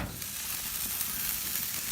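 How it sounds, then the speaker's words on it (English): Smoked hot wings sizzling and popping on a smoker grill, a steady broadband hiss of frying fat with scattered crackles, close and continuous with no voices. "I'm hearing a lot of popping and sizzling, so I decided to give them a check."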